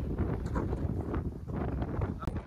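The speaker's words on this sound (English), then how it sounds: "It's so windy." Steady wind buffeting a microphone on a Cape Cod beach, a constant low rumble with gusty swells throughout, loud and close.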